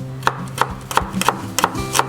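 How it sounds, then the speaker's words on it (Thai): A knife slices red shallots lengthwise on a cutting board, six crisp, evenly spaced chops landing about every third of a second, close and clear with no talk. "พยายามหั่นให้ เขา เป็นในทางทางยาวนะครับ"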